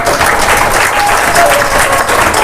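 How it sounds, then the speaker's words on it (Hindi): A large crowd of devotees at an outdoor satsang claps loudly and continuously, a thick, even wash of applause with faint voices mixed in beneath. "अंदर जो भी भक्त बैठे हैं सबके लिए जोरदार ताली बजा दो"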